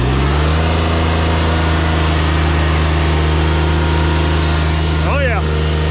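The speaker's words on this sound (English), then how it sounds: "Got the old 655 fired up here. It's my favorite little tractor." An old 655 tractor engine runs at a steady idle, a loud, constant low drone close by with no change in pace, and a short higher chirp or squeal breaks in near the end.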